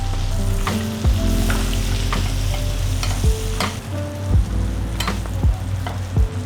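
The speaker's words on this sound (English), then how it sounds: "We'll just baste the bottom side of the fish a little bit just to get the cooking process started." Fish frying in a butter-filled pan, a loud close sizzle with spoon clinks and scrapes as melted butter is basted over it, the crackle rising and falling in short bursts.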